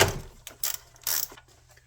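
A ratchet wrench clicks in three short bursts while loosening the spark plug on a John Deere 3E engine, close and crisp with brief gaps between turns.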